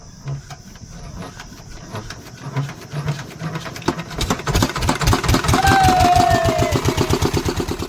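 A fishing boat engine on the Matla river in the Sundarbans starts up partway through and settles into a loud, steady rhythmic chugging. Before it catches there is quieter background noise.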